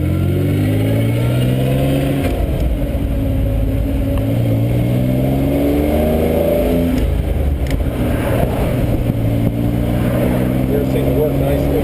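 A 1967 Healey BJ8 MKIII sports car pulls away and accelerates, its engine note rising through gears in repeated climbing sweeps, loud and steady throughout.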